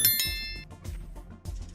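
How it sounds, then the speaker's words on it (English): A notification bell sound effect: a bright ding with a ringing metallic tone at the start, followed by a few soft thumps and clanks, moderately loud and with no voices. "ring that notification bell for more"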